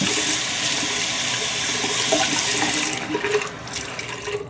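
A tap gushes warm water into a basin for washing wool, loud and steady, then the rushing thins and turns uneven near the end as the flow changes.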